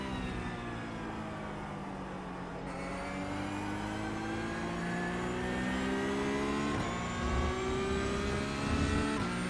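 A Porsche Cup race car engine revs and drones steadily through rising and falling gears in iRacing, loud and close with no talk over it.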